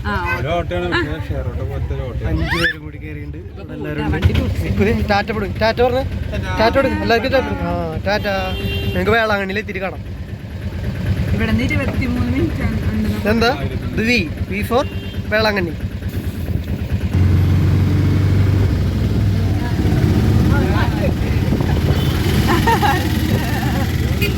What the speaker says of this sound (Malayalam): ഓട്ടോയിൽ കയറിയിട്ടുണ്ട് ഷെയർ ഓട്ടോയിൽ ഓട്ടോ ഉണ്ട് കേട്ടോ